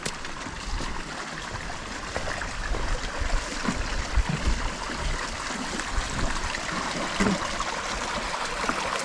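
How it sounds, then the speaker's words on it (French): A small spring of water trickles steadily on a hiking trail near Lake St Clair in Australia, a soft continuous wash that holds at an even level throughout with no voices. "j'entends une petite source couler"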